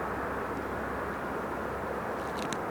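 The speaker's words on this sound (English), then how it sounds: "SkyWest about to take the runway." SkyWest jet taking the runway at LAX, a steady, distant broadband jet roar holding at even loudness throughout, with no voices.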